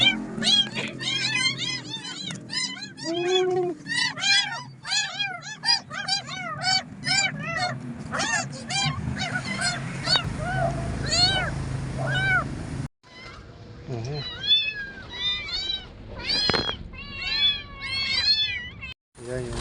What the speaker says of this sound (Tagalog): Yan yung na-rescue nating kuting kanina.